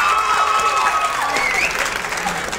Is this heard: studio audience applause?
yes